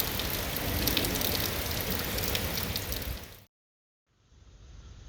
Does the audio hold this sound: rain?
yes